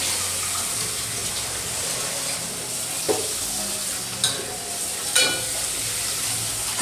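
Chicken stock pours into masala frying in a pan, a steady wet sizzle and liquid splash with a few sharper stirring knocks, close and moderately loud.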